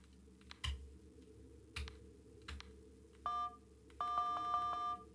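Phone number keyed in on a telephone keypad in Five Nights at Freddy's: Into the Pit, with a few dull clicks followed by two bursts of crisp rapid dial-tone beeps over a low hum.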